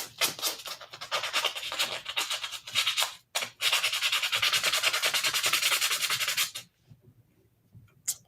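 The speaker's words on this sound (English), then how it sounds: "I'm going to do a quick sand." Sandpaper is rubbed by hand over a quilting inlay. Close, raspy scrubbing comes first in quick short strokes and then in one long steady run, and the clip ends in near silence with a few faint rubs.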